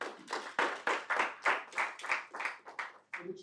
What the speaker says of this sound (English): I think you should clap.